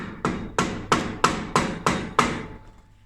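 A hammer knocks back the chain adjuster on a Rolux reel mower: seven sharp metallic taps in an even, steady rhythm, close and clear, the last ringing out into quiet.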